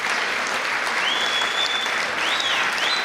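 Spectators at a squash semi-final of the SA Open 2023 applaud, a dense, sustained wash of clapping from a crowd, with a few shrill whistles rising over it.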